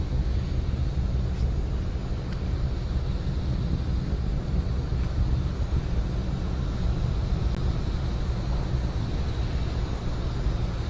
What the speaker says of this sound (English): First stage continues to burn under the power of 9 Merlin 1D engines.